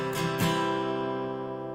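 An acoustic guitar strums a simple three-beat waltz pattern of down, down, up, down strokes, with two clear strums ringing on at a moderate, close level.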